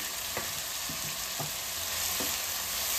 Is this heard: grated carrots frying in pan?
yes